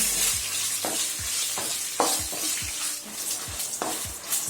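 Steady sizzling of chillies frying in a pan, with repeated scraping stirs every half second or so, close and fairly loud, no voices.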